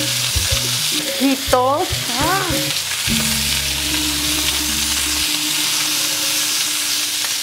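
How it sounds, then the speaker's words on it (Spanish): Large pieces of onion and rocoto pepper frying in a pan, a loud, constant sizzle with clattering stirring strokes near the start and a brief spoken word. "Así en pedazos grandes la cebolla y el rocoto. Bien, removemos."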